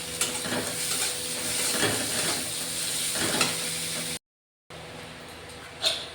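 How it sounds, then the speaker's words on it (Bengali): A steady hiss of sliced onions frying in hot oil with a little salt, with occasional stirring scrapes, then a short silence before the sizzling continues. "যাতে পেঁয়াজটা তাড়াতাড়ি ভাজা হয়"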